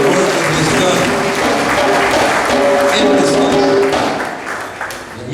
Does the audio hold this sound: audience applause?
yes